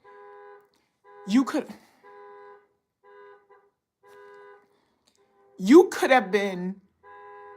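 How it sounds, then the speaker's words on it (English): A car alarm sounds outside, with repeated steady electronic tone bursts and gaps between them, while someone talks close by over the alarm. "I don't know what's going on outside. Somebody's alarm or something."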